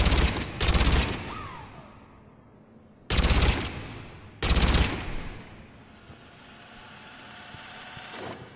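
Shuriken gun in Mass Effect 3 fired at long range: three loud bursts of rapid automatic shots, each ringing out into a decaying tail, with quiet gaps between them.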